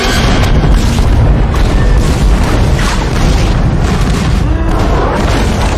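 Ship cannon batteries fire a broadside in a pirate drama battle, a dense, loud, continuous rumble of overlapping booms and blasts that stays heavy throughout, with no clear speech.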